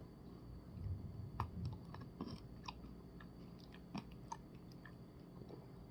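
Eating a Dairy Queen frosted animal cookie mini Blizzard: soft, close chewing with faint crunchy clicks of cookie pieces, quiet and irregular with no talking.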